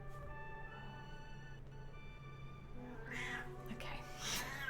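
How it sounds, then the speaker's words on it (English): A pet cat meows in short squeaky calls near the end, over steady game music and background hum in a room during a streamed game session. "That's my cat."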